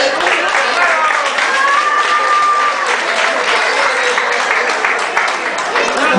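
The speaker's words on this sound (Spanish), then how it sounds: "Un fuerte aplauso, por favor" Crowd applause swells at a boxing event in Oaxaca, dense and loud clapping mixed with cheering voices, sustained across the whole stretch with a voice rising briefly above it.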